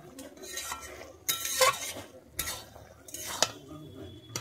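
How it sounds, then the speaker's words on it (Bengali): A pot lid comes off a pumpkin-leaf curry with several sharp metallic clanks and scrapes, set between quieter stretches of faint background noise. The sounds are close and come in short bursts. "আমি ঢাকনাটা খুলে দেখে নিচ্ছি"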